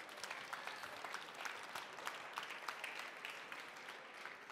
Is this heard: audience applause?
yes